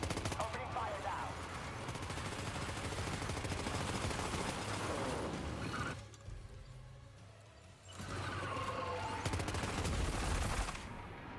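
Sustained bursts of gunfire from the video game Death Stranding 2, rapid and dense like automatic weapons, briefly dropping away in the middle before resuming loudly with voices mixed in.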